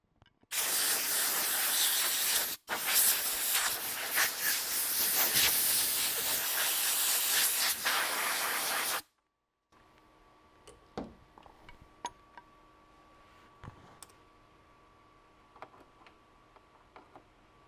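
Compressed air blasts loudly and steadily across a freshly washed anvil for several seconds, a broad continuous hiss with one brief break, then cuts off to a quiet room with faint scattered ticks and a low hum.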